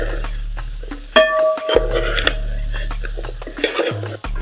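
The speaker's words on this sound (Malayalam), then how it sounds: "നന്നായിട്ട് മിക്സ് ചെയ്ത് കൊടുക്കാം." A spoon scrapes and clatters through chicken perattu masala in a pan, Cherthala style, with a few sharp metallic knocks and clinks over a low background hum, close and fairly loud.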